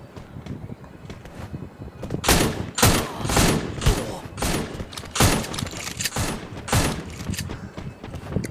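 Repeated bursts of gunfire in the mobile battle game Free Fire MAX, loud rapid volleys spaced across several seconds with a quieter background between shots.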